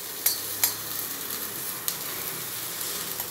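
Turmeric is stirred into cumin seeds sizzling in hot oil in a pan, giving a steady frying hiss with a few sharp spoon scrapes and clicks against the pan.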